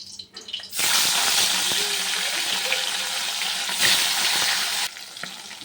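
Fish pieces dropped into hot oil for a mustard and cumin dish, setting off a sudden loud, dense spluttering sizzle that holds steady for several seconds before cutting off abruptly.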